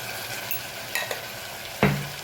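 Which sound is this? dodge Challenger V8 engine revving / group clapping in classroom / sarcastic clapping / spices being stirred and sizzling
spices being stirred and sizzling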